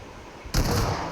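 A single sharp sniper shot fires in PUBG, a sudden loud crack halfway through that decays into a brief rumbling tail after a quieter stretch of game ambience.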